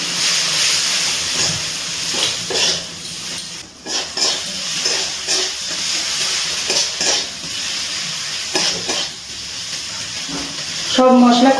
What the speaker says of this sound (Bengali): এবারে খুব ভালো করে মশলাগুলো কষিয়ে নিচ্ছি।